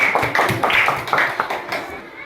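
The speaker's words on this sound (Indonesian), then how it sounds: "Nah, tepuk tangan." Schoolchildren clap their hands together in a classroom, a loud, uneven patter of many claps lasting a couple of seconds, with voices mixed in.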